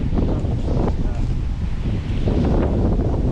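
Gusty wind at the quayside of Salford Quays during fishing buffets the microphone with a heavy, continuous low rumble. Faint water and a distant voice sit underneath.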